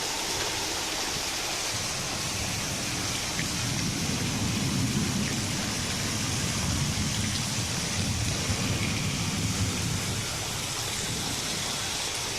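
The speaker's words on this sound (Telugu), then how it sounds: "హైదరాబాద్లో కుండపోతుగా వర్షం కురిసింది." A heavy downpour in Hyderabad during a thunderstorm, a dense, steady roar of rain pounding surfaces that holds at an even level throughout, with no voices.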